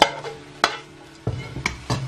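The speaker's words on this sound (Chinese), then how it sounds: "快速的把菜花和猪肉翻炒在一起" Steamed cauliflower and pork are tossed in a hot wok, a spatula scraping and flipping in about five quick, sharp strokes, each with a short sizzle, loud and close.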